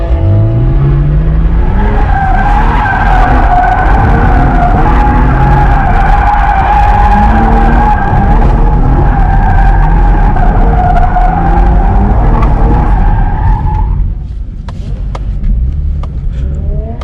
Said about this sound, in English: I'm gonna try to use the e-brake on this entry and see if that helps me kick it out in time